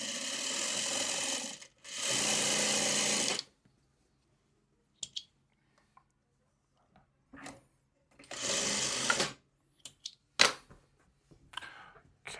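A sewing machine stitches a quilt block for a chandelier setting quilt in three short bursts of running, separated by quiet stretches with scattered clicks and fabric handling close by.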